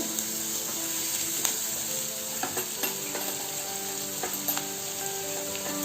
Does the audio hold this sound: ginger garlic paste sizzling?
yes